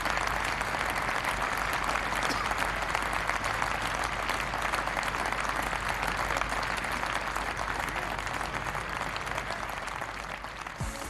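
A cricket crowd at an Essex Eagles v Surrey Lions 40-over match applauds a magnificent bowling spell, sustained dense clapping that stays loud and even from start to finish.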